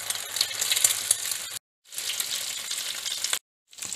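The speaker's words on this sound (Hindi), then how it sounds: "फ्लेम को मीडियम टू लो रखना है, उसी पे हमने इनको फ्राई करना है ताकि हमारे अच्छे तरीके से फ्राई हो जाए" Potato and chicken kababs frying in a pan over medium to low flame, a close, steady hiss of oil broken by two short silent gaps.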